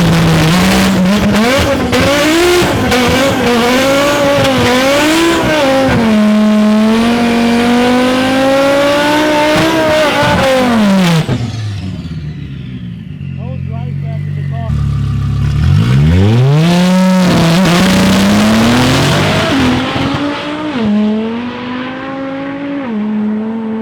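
A 1000+ horsepower Audi RS3 running front-wheel drive with its drive shaft removed, screaming through a drag strip pass; the engine revs hard through repeated upshifts, drops away briefly, then roars back up, loud and close, with a voice talking over parts of it.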